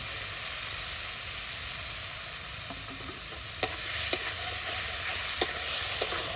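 Onion paste and chopped tomato fry in a pan with oil for a rohu-style fish curry, a steady broadband sizzle with a few sharp spatula scrapes and taps toward the end, close and alone without talk.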